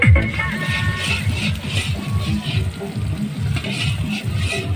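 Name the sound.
chicken cooking in a pan at a picnic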